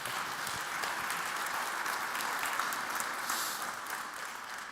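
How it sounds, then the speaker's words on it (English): Sustained audience applause at a V2X electric vehicle charging symposium, a dense even wash of many hands clapping, heard from a distance with a steady level throughout. "so applause is welcome."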